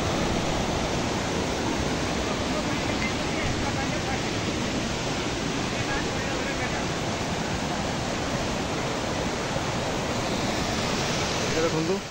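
A waterfall pours steadily on a path leading to a temple, a dense, unbroken roar of falling water that stays loud and constant throughout.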